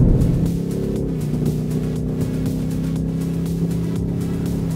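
A 2024 Ford Mustang powers along the Interlagos race track, a loud droning engine note with sustained low harmonics and brief dips in level, heard from close by.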